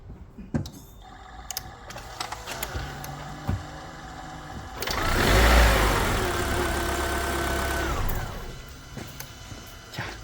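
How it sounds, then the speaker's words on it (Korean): A Hyundai Sonata Hybrid starts up mid-clip, a swelling engine rumble that holds for a few seconds and then settles, preceded by faint clicks and mechanical sounds inside the car. "다시 시동 한번 걸어 보겠습니다."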